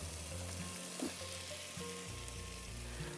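Potatoes fry in hot oil in a pan for potato masala, giving a dense, steady sizzle with small pops and stirring scrapes, close and without talk.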